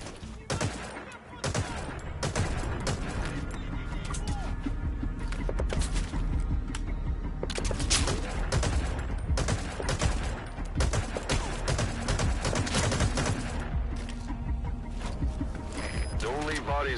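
Loud, unsuppressed gunfire in Metal Gear Solid V, dense bursts and sustained shots cracking throughout amid busy game noise, with voices talking over it.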